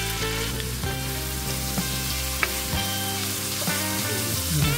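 Onions and tomatoes frying in a pan for spicy shrimp paste (bagoong) give a continuous close sizzle, with occasional clinks and scrapes of stirring and no talk.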